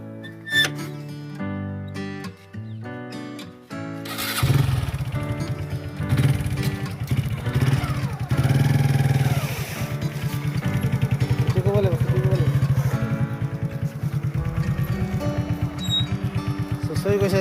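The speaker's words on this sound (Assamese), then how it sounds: "বাইক ষ্টাৰ্ট দিলে" A motorcycle engine starts after a few seconds of tonal music and settles into a steady, close, throbbing idle that continues to the end.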